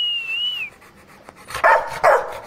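Rottweiler puppies and their sire at a kennel: two short, loud barks or yelps close by near the end, after a thin whistle-like tone and quiet background.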